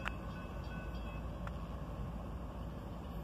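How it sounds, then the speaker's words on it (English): A Union Pacific sand train with a Dash 8 and an ES-44AC locomotive at the rear passes as a steady broadband rumble and roar. It holds constant throughout, with faint squealing tones and a couple of brief metallic clanks. "Wow, two locomotives on the back. One Dash 8 and one ES-44AC."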